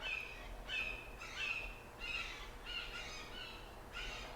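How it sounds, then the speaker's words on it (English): A hawk calls outdoors with repeated sharp, high cries in short bursts, about six in a steady rhythm, moderately distant over faint background noise with no talking. "I think that is Hawk behind us"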